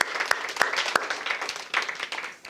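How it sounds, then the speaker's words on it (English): Audience round of applause in a seminar room, dense steady clapping from a modest crowd with a few sharp louder claps standing out, continuing for a couple of seconds and tapering slightly. "Give her a round of applause."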